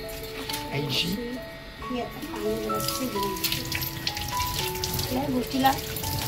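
Dried coconut roasts in a pan with a soft, continuous crackling sizzle under people talking, as part of cooking an Agri-style crab curry.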